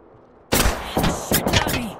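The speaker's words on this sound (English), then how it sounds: "They spotted me. They're taking shots." Apex Legends gunfire erupts suddenly after a quiet moment, then rattles in a few sharp, loud bursts close by, with a voice speaking over the shots.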